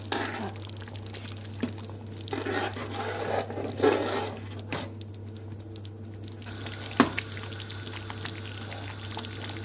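Pure butter ghee poured into a pot of Bangladeshi khichuri, a soft steady pouring patter over a constant low kitchen hum, with faint clinks of utensils.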